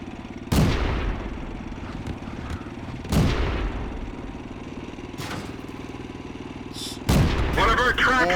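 Char D1 tank cannon in World of Tanks firing three heavy booming shots spaced a few seconds apart, each sharp and loud, over a constant rumbling engine drone with faint talk between.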